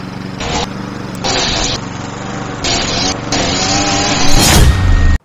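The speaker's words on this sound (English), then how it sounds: "This guy uses a grass cutter to trim the small patch of grass" A grass cutter trims a small patch of grass, its small engine droning steadily and loudly close by, rising in pitch near the end before cutting off abruptly.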